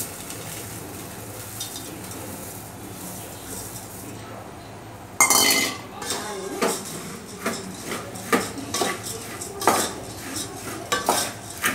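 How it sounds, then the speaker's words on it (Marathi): Puffed rice chivda is tossed and stirred in a metal pan, the spoon scraping and clinking against the pan in a rapid run of sharp strokes after a quieter stretch. "सर्व एकत्र करून घ्यायचं"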